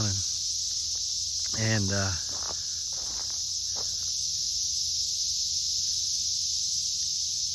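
Cicadas drone in a steady, high, shimmering buzz that never lets up, with a voice speaking briefly near the start and faint rustling underneath.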